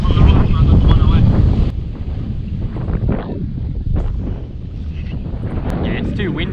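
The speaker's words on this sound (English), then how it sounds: "Yeah, it's too windy on that side of the lake though," Strong wind buffets the microphone on a boat on Lake Eildon, producing heavy, rumbling gusts that roar steadily throughout, with a brief lull partway before building again.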